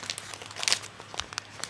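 A plastic Ziploc bag holding UNIQLO clothing crinkles and rustles in a few close, quiet bursts, with no talking.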